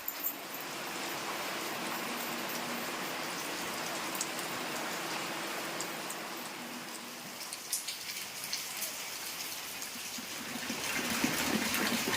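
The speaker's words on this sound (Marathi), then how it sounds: "बाहेर मस्तपैकी पाऊस पडलाय" Steady rain pours outside, a dense even hiss of drops with a few louder splatters, continuous throughout.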